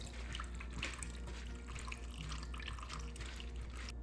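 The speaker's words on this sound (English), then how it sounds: "So I now have the seeds in a strainer, and I can just rinse and get any bits." Pumpkin seeds are rinsed in a strainer under running water in a kitchen sink, a faint, steady stream of splashing and trickling throughout.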